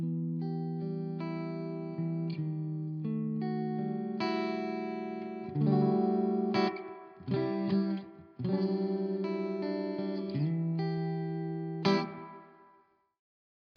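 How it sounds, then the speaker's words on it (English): Clean electric guitar, an Ibanez AZES31 through a Laney Lionheart Loudpedal, playing chords and short melodic lines, with a springy reverb tail ringing after each note; close and fairly loud, ending in silence. "It's not like a massively drippy reverb, but it sounds like springs, and it's really nice."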